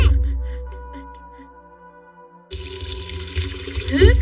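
Water splashes from a fountain as a cartoon character rinses hands, a steady rushing stream that begins abruptly midway after a calm musical stretch and stays moderately loud to the end.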